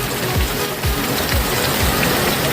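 Heavy rain pours down in a steady, dense hiss that does not stop, with low rhythmic thumps repeating underneath. The downpour is loud and close, and no one speaks.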